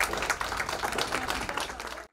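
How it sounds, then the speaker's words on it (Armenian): Applause from a theatre festival audience, a short burst of dense clapping that fades quickly. "Ծափահարենք։"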